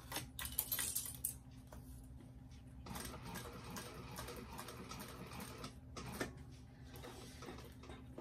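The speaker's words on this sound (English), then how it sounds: "just continuing basting these raw edges together along here" A sewing machine basting the raw edges of a fabric bag together, its steady mechanical stitching running continuously close by, with a brief louder burst of faster stitching near the start.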